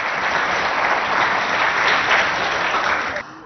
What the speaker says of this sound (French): On applaudit pour nous-mêmes ici présents.